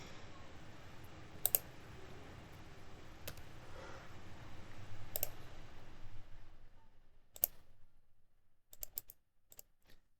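Sparse, quiet key clicks on a computer keyboard, including presses of the tab key while working in SolidWorks CAD software, heard as a few isolated taps over a low background hum, with a small cluster of quick clicks near the end.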